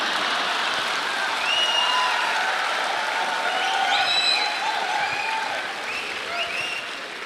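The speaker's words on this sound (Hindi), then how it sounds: "लेकिन आप ताली मत बजाओ" An audience at a motivational business talk claps loudly and steadily for about seven seconds, a dense, even wash of applause with a few faint whistles rising above it.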